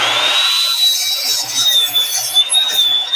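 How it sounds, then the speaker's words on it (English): A chop saw cuts through wood stock for a mallet head, giving a steady, close, high-pitched whining rasp that holds for about three seconds with slight wavering in pitch. "Now I'm cutting out the actual material that I'm going to use for the mallet head."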